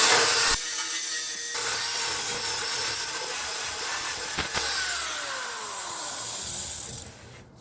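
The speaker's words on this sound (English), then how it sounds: "This has deeper pits than the wire reel will get to." A wire wheel grinds rust off a steel car body tub, making a loud, continuous abrasive whir that holds steady for several seconds before cutting off at the end.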